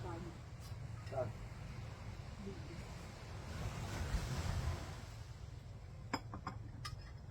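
Ocean surf washes onto a beach at Saud Hotel in Pagudpud, Ilocos Norte, a low continuous rumble with a swell of louder wave noise midway, wind buffeting the microphone and people chatting nearby.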